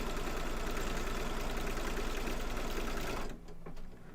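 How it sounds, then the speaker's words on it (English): An embroidery machine stitches down a folded fabric piece for an in-the-hoop Halloween haunted house quilt block, humming in a steady, close, continuous mechanical buzz that stops abruptly near the end, leaving a short quieter tail. "and then stitch it down"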